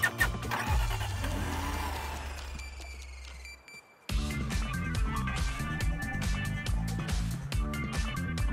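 A car-like engine from the Deceive Inc extraction vehicle starts and revs, followed by an abrupt cut to busy music-like game sounds with engine hum underneath.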